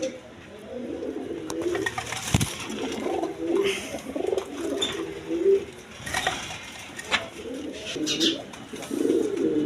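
Rajgolla pigeons coo repeatedly nearby, soft throaty rolling calls in uneven bursts over faint background clatter.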